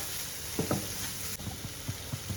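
Paneer masala being stirred and fried in a pan, a steady soft sizzle under repeated scraping strokes of a spoon, close and moderately loud.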